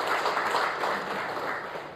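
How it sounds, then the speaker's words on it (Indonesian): A church congregation clapping together at a service, a dense, even patter of many hands that holds steady for two seconds and fades slightly at the end. "Beri tepuk tangan terbaik buat Tuhan Yesus."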